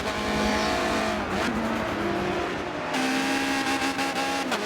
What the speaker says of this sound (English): Here is the Lotus now coming out of the second chicane, down the hill to the long right-hander